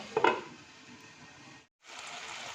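Mutton curry sautés in a covered pan: a soft clatter at the start, then a steady low sizzle that cuts out briefly and resumes.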